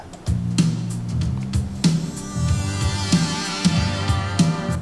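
A short snippet of recorded music plays back from the SFX pad of a Soundvision SMX-6 mixer, a steady melody with a rhythmic beat at moderate volume.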